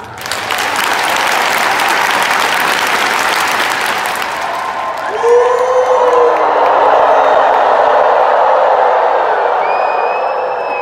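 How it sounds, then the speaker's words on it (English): A large audience at a live conference event claps loudly and steadily, with cheers and whoops rising over the dense applause. "Clap 12 times."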